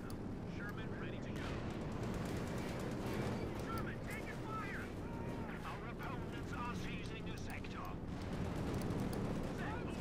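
Mortar and artillery fire rumble through a Company of Heroes 2 match between Wehrmacht and US forces, a dense, continuous barrage of booms and cracking shots with a commentator's voice faintly mixed in.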